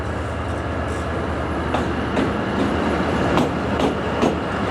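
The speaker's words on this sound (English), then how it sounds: "that train is just about to arrive" A train bound for Nha Trang, Vietnam, arrives at a station, rumbling steadily nearby with rhythmic clacking of wheels over rail joints, loud and continuous as it rolls in.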